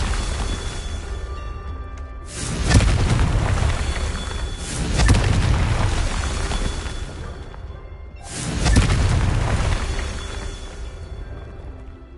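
Confringo blasting curses in Hogwarts Legacy go off three times, each a swelling whooshing roar that bursts and slowly fades, spaced a few seconds apart over a low humming game backdrop.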